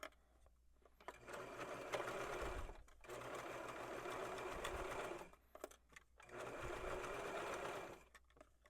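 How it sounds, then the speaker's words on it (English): A sewing machine stitching the hem of a shirred dress runs in three steady bursts of rapid needle chatter, separated by brief pauses, fairly close and clear. "when you're sewing over to finish the hem"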